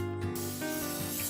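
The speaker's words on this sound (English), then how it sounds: "Next, we're going to spray the inside of a crock pot" Cooking spray hissing into the inside of a crock pot, one short close burst of about a second.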